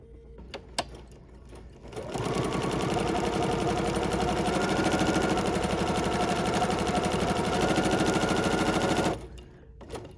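A sewing machine stitches a row on an embroidered crazy quilt block, starting after a few faint clicks and then running in a fast, even mechanical chatter for about seven seconds before stopping abruptly, close and clear with no talk.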